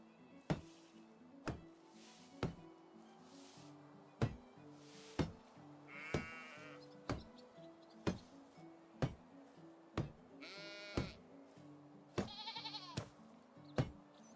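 Livestock in Medieval Dynasty, horses or donkeys calling for feed, faint repeated animal calls scattered among regular sharp knocking or chopping hits at a steady rhythm.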